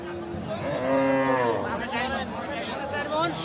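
A bull at a Bangladeshi cattle market gives a loud, drawn-out moo, followed by a shorter lowing call, with people chattering in the background.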